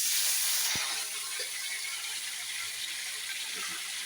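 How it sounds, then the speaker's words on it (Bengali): Fish frying in hot oil with black cumin in a kadai, a steady loud sizzling hiss that starts strongest and settles into a continuous spatter, with one brief knock early on and no talk. "আর এইবার মাছগুলোকে ভালো করে ভেজে নেব।"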